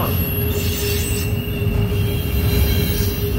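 The tail end of a CSX freight train rolls past with a steady, loud rumble and a continuous high wheel squeal, without talk.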